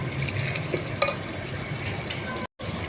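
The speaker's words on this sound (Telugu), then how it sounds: "మటను నూనెలో కొంచెం మగ్గిందండి" Mutton frying in oil, a low continuous sizzle with occasional stirring scrapes and a brief clink, fairly quiet and close.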